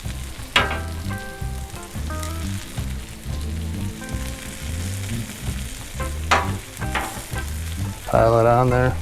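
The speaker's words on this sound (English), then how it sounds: "Then you take the great pork, put that pork right on top." Pork for a copycat porketta sizzles steadily on a hot griddle, a continuous close frying hiss with a few spatula scrapes while someone talks over it.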